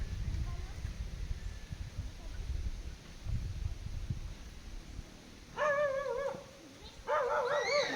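A dog barks and yips in two short bursts near the end, loud and close, after several seconds of rustling outdoor background and faint movement noise.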